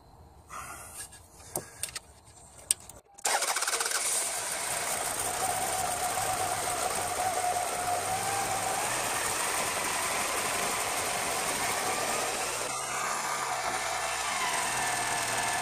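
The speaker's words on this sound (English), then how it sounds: "what I'm going to do is start the engine and let the belt seat in and then retension it." A Toyota 5SFE four-cylinder engine, just fitted with a new timing belt, is heard from a few quiet clicks and a brief crank before it catches, then idles steadily with a loud, even hum for the rest of the clip.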